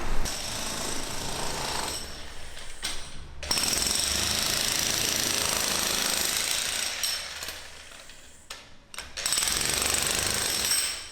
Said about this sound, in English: there's 2 guys in here working with a jackhammer